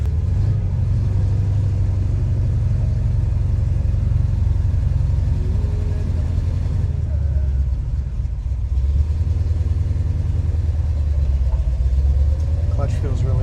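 A deep, steady big-block 454 V8 rumble from a 1968 Chevrolet El Camino SS runs throughout, loud and close, with slight swells in revs and faint voices occasionally underneath.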